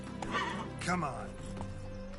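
Roach, the horse in the video game The Witcher 3, neighs loudly with a whinny and has hoof clip-clops beneath, while someone speaks over it.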